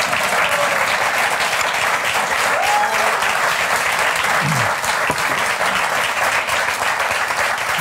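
Loud, dense applause fills a television cooking studio as the audience claps continuously and steadily for several seconds, with a few faint voices underneath.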